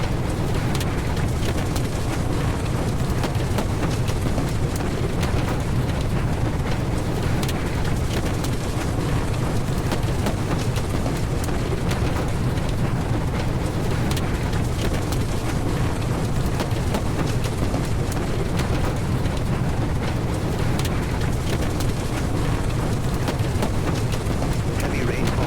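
Heavy rain pours steadily during a tornado intercept, a dense and loud roar that stays constant with no break from start to end.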